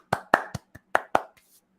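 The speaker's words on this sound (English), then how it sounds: "Everyone, round of applause." Six crisp hand claps in an irregular rhythm, close and fairly loud, then a soft trailing noise, with no talking.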